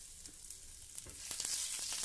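Ginger and garlic sauté in hot coconut oil after mustard and fenugreek seeds have popped, a soft, steady sizzle with faint stirring clicks, close by and fairly quiet, with no voices.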